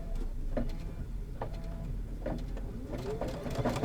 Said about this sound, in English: And then I'm going to go ahead and stitch it all the way down.